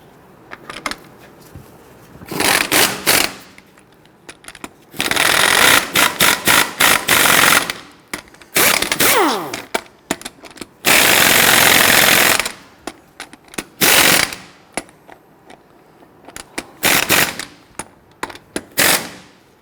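Impact wrench rattling lug nuts onto the wheel of a 2006-2010 Hummer H3, in loud repeated bursts of a few seconds each with short pauses between.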